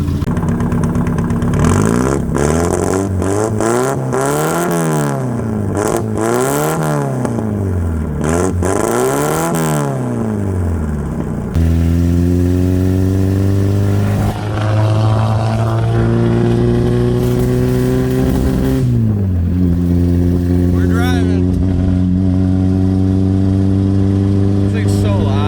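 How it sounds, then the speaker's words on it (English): A 1979 MG Midget roadster's small engine revs repeatedly in rising and falling bursts, then settles into a loud, steady exhaust drone before dropping off, with talking mixed in. "Want to hear the exhaust?"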